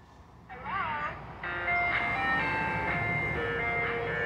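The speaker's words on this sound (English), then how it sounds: "local ice cream truck with Super Mario Bros. With the gracious ice cream truck is back again." An ice cream truck decorated in Super Mario Bros style rolls up, its chiming jingle growing steadily louder and then holding near and prominent over a low engine hum, with a person talking in the background.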